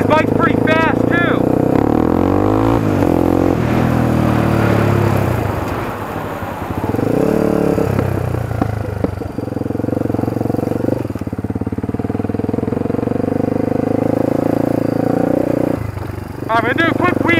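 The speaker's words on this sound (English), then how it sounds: "And you can shift these bikes pretty fast too." A quad bike engine revs up and drops as gears are shifted, rising and falling pitch sweeps close by, loud and continuous with short pauses between shifts.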